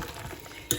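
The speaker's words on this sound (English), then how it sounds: "I'm just going to give it a bit of a stir." A spoon stirs a slow cooker of food in a short, soft scrape with a brief louder clink of utensil on the pot at the end, alone and with no talk.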